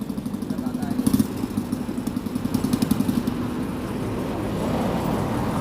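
A tricycle motor idles with a steady low throb and rapid pulsing, close by, while people talk over it in an outdoor street setting.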